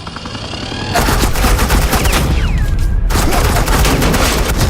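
Sustained gunfire in the Batman: The Enemy Within video game, a loud, dense and continuous fusillade of automatic weapons with a brief lull partway through, alone with no talk.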